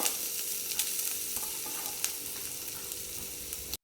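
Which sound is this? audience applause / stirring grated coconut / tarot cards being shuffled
stirring grated coconut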